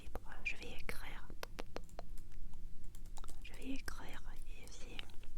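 Fingers tap out a subtitle on a computer keyboard in quick bursts of light clicks, close and soft, under a whispered French voice.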